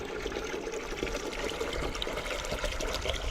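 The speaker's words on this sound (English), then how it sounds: "I was watering the melons" Water pours steadily and broadband while melons are watered in a greenhouse, a continuous close splashing rush with no voices.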